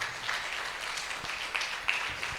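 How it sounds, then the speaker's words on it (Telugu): A church congregation claps in praise at a fasting prayer service, a moderate wash of hand claps with a few sharper individual claps standing out, fairly soft overall. "సంతోషంగా ఉన్నవారు చప్పట్లు కొట్టి దేవుణ్ణి మహిమపరచండి"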